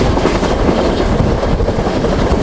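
Shalimar Express passenger train rolling in on the Bahawalpur to Karachi route, a steady loud rumble of wheels and wagons with faint clickety-clack throughout, close by and unbroken, no voices.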